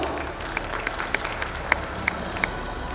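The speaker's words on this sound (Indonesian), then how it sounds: "Tepuk tangan yang paling meriah Bapak Ibu." An audience at a certificate ceremony applauds, a soft, steady patter of clapping heard from a distance with a few sharper individual claps standing out.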